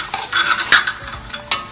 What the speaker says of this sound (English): We will stir a little bit,